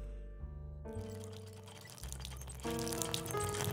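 Water is poured into a glass of whisky, a short liquid pour with some splashing and dripping, heard close and fairly quiet, with no talk.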